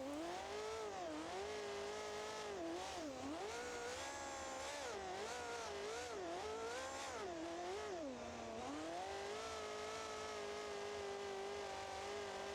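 A monster truck engine in a BeamNG.drive race revs hard and continuously near 9,000 RPM, a loud, close, high-pitched whine that rises and dips with the throttle throughout, with no voices.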